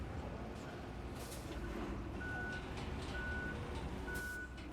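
Truck reversing alarm in Roadcraft, three evenly spaced electronic beeps about a second apart over a low, steady engine rumble.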